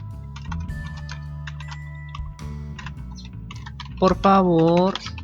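Fingers type on a computer keyboard in rapid, uneven bursts of light clicks. A person speaks near the end while the tapping continues.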